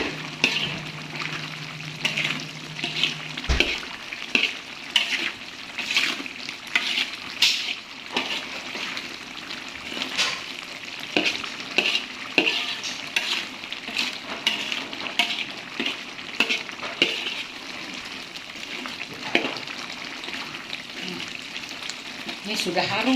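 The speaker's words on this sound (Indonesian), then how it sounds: "Jadi kita tumis terus sampai dia kadar airnya tidak ada" Dry-cooked beef (daging masak kering) is stir-fried in a pan, a soft sizzle running under repeated scraping and stirring strokes, close and fairly quiet throughout.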